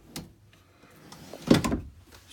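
A drawer in the cabin of a 2019 Chaparral 370FL boat slides and knocks, a soft click near the start followed by a louder close, nearby thud and rattle.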